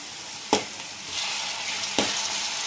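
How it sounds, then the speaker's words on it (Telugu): Tomato pieces sizzle and fry steadily in a hot pan, a continuous close hiss broken by two brief stirring scrapes, with no talking. "ఇప్పుడు మనం టమాటా ముక్కలు వేసుకున్నాం. ఇది వేగింది"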